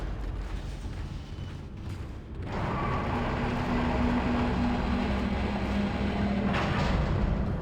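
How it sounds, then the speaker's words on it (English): Tram rolling along its rails in the Dead Space video game, a steady rumbling drone that swells after a couple of seconds and holds, with a faint tonal whine riding on top and no talk. "Oh, that's the tram."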